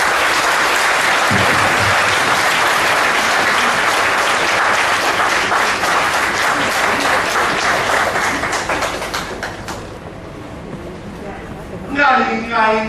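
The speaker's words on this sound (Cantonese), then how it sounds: "不如大家就以熱烈嘅掌聲" A school audience at a Hong Kong Red Cross school's 50th anniversary ceremony gives loud, dense applause welcoming a student, sustained for about nine seconds before fading, after which a voice begins speaking.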